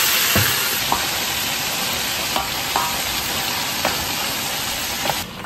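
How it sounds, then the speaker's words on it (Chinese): Crabs dusted in flour deep-frying in hot oil, a steady loud sizzle and bubbling throughout, with a few soft clicks of utensils against the pot. "油热下入螃蟹"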